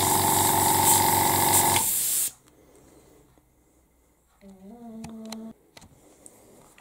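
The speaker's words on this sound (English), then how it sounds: "now we should be able to see that blue spray nice and smoothly out the airbrush" An airbrush sprays blue paint in a loud, steady hiss for about two seconds, then cuts off, leaving quiet room tone with a few faint tones and clicks.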